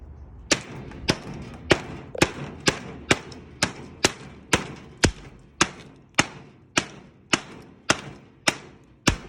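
Sharp, evenly spaced chops of a Shade Indonesia Dark Horse 2 chopper knife biting into wood, about fifteen strikes in a steady rhythm, close and loud.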